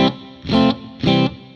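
Electric guitar notes pass through reverb from a UAFX Del-Verb pedal with its delay switched off. Three loud plucked chords sound in turn, each ringing and then fading into a smooth wash.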